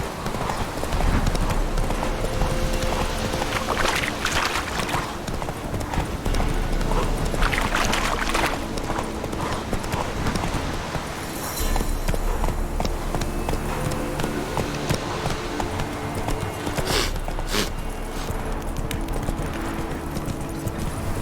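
Roach, the horse in The Witcher 3, gallops in a loud, rapid run of hoofbeats, the rhythm steady throughout with other game sounds mixed in.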